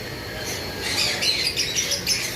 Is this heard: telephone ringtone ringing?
no